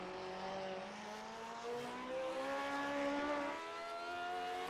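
Ford-Cosworth DFV V8 race car engine in the iRacing sim, racing at the Nürburgring GP, wailing at high revs through several upshifts and steady pulls, moderately loud and continuous with no talking.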